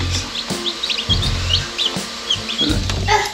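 Baby chicks peep in quick high chirps, close by, over intermittent low thumping and shuffling sounds.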